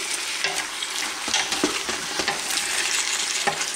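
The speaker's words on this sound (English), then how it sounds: "We'll give it another stir here." Beef browning in a pan for a hearty stew sizzles steadily up close while a utensil stirs and scrapes through it in repeated strokes.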